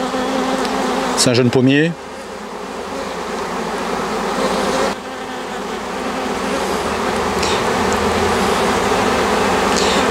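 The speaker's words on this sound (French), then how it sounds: "Je vais attendre que toutes les abeilles se fixent, qu'elles forment la grappe avant de les embêter." A honeybee swarm clusters around its queen on a young apple tree, a dense continuous buzzing hum close by, with a brief voice speaking early on over the swarm.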